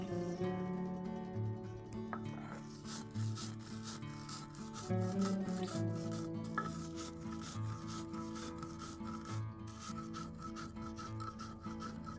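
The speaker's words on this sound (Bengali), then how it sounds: "এবার মশলাটা শিলে বেটে নেব।" Spices are ground by hand on a flat grinding stone for a red chilli pickle, giving a faint, continuous scraping rub with a repeated back-and-forth rhythm and no talking.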